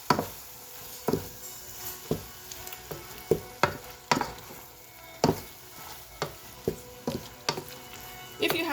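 Pad thai mixture with scrambled egg is tossed in a frying pan, making repeated sharp utensil scrapes and knocks about every half second over a low continuous sizzle.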